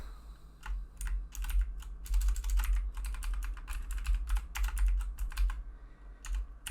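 Typing on a computer keyboard while entering MySQL commands, with quick irregular clusters of clicking keystrokes and brief pauses, close and fairly quiet over a low hum.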